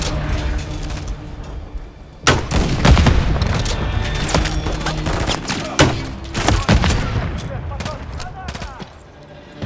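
Heavy gunfire from Call of Duty Modern Warfare III, loud bursts of rapid shots and booming blasts close by, with a shouted voice layered over the fusillade.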